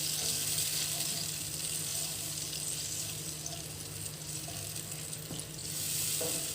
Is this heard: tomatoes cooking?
yes